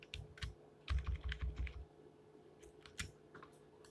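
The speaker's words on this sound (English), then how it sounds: "If I type here any documents, hello, if I type here hello, only hello" Quiet, close clicking of keys typed on a computer keyboard in a short burst, then a few scattered single keystrokes, with no voices.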